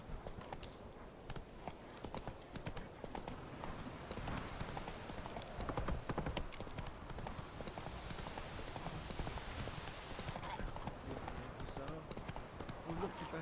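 Fast, rhythmic hoofbeats come from the horse Roach galloping in the Witcher 3 video game, a continuous clip-clop mixed with game ambience and voices, the whole recording fairly quiet.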